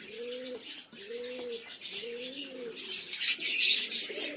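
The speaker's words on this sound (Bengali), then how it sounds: "এই যে এইটা একটা মেল আছে চটিয়াল, বেশ ভালো পায়রাটা" Domestic pigeons, including a male, coo in a home loft, with three repeated low throaty coos at a steady rhythm, close by, over a backdrop of brighter chirping from other birds.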